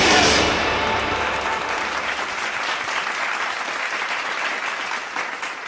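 At a school investiture ceremony, the audience cheers and applauds. The dense clapping starts loud with a brief shout, then settles into a steady, even wash of applause that carries on to the end.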